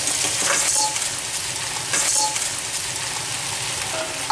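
Crab frying in olive oil with onion, garlic, ginger, curry leaves and pandan in a Sri Lankan chilli crab curry: a steady, loud close-up sizzle with occasional stirring scrapes and no talking.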